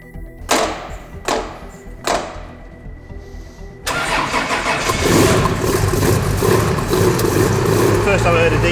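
Jaguar D-Type Le Mans racing car with XK engine and rear exhaust: three sharp loud blips, then the engine catches and runs steadily with a dense, rough, loud roar, close by.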